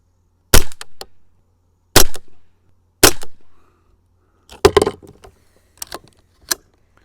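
Sharp gunshots from a rifle fitted with a CVLIFE Jackel Howl red dot sight, outdoors at dusk: three evenly spaced loud cracks, then a quieter cluster of reports and a few final shots, with no talking.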